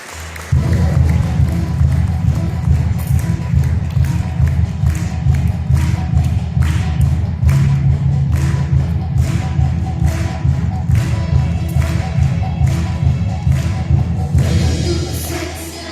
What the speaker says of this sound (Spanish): ¿Por qué no das un fuerte aplauso a nuestro Dios?